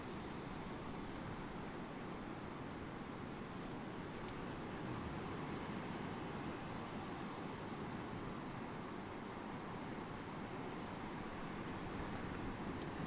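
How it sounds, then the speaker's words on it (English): Wind blowing across the beach on the Holderness coast at Hornsea, a steady broad roar with a faint surf wash beneath, constant for the whole stretch without speech. "That wind seems to be picking up as well."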